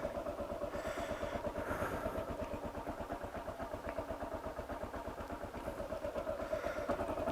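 A Tusk D-Sport motorcycle engine runs steadily with a pulsing mid-range drone as the bike rides slowly around a neighborhood on pavement, close and continuous throughout without talk.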